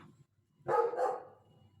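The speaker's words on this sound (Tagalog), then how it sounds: "Pasensya na sa aso." A dog barks twice in quick succession, fairly close, with a brief rough yelping quality, then quiet background.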